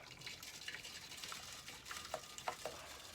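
Thin, runny castable refractory poured into a foundry furnace being rebuilt with a ribbon burner, giving quiet wet slops and scattered drips over faint background hiss, with a few soft splashes near the end.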